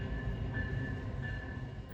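Diesel locomotive 3002, built by National Railway Equipment Company and completed in 2020, rolls in close with a steady rumble, wheel noise and a faint sustained squeal, with no talk.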